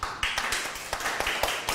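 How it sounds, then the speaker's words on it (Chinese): A small audience claps at a Buddhist sutra lecture in a meditation hall, a sparse, uneven run of about ten separate hand claps over a soft background hum. "鼓掌一下"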